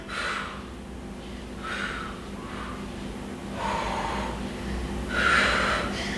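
A person breathes heavily during a no-equipment workout, with four or five hard, gasping exhales spaced a second or so apart over a steady low hum.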